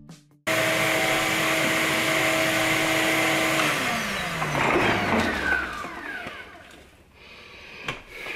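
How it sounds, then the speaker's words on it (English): A vacuum cleaner cleaning out a clothes dryer lint trap runs loud and close, its steady whine shifting in pitch as the nozzle moves, then easing off near the end. "I'm going to go ahead and vacuum it out again."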